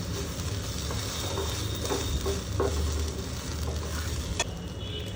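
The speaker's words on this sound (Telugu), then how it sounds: "వెల్లుల్లి పేస్ట్ పచ్చివాసన పోయేంత వరకు వేపుకోవాలి." Garlic paste sizzles steadily in a hot pan while being fried for a paneer curry, a continuous bubbling hiss with a few scraping stirs of a spoon, close and fairly loud.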